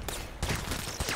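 Gunfire in a video game aimed at the player: repeated bursts of shots in clusters, loud and close, with no talk over them.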